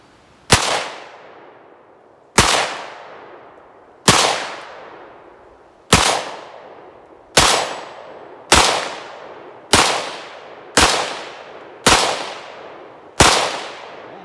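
Ten sharp pistol shots from an FN Five-seveN firing 5.7 ammunition at an outdoor range, spaced about one and a half to two seconds apart, each loud crack trailing off in a short echo.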